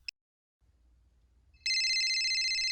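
Mobile phone ringtone starting abruptly after a near-silent pause, a loud bright electronic ring sustained close to the microphone, preceded by a short click and low background hum.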